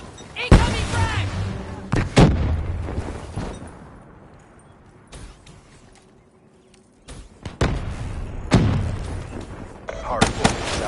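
A frag grenade blast and gunfire in Call of Duty Black Ops 3, with loud bursts of shots early, a quiet stretch, then more heavy booming fire near the end.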